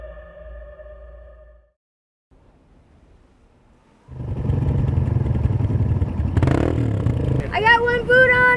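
A motorcycle rides off across desert dirt, its engine droning loud and steady in the second half of the clip after quieter talk and a near-silent pause, with a brief rise as it pulls away.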